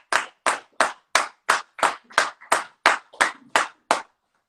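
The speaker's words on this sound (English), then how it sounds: "One more round of applause for Lauren." A round of applause for Lauren on an Instagram live comes as about a dozen sharp, evenly spaced claps from a single pair of hands, close and loud, then stops.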